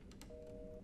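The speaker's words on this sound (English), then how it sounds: "really gonna pick up that phone" Telephone handset being picked up in the video game Resident Evil Village: a couple of faint clicks, then a steady electronic tone that holds for about half a second, quiet and alone.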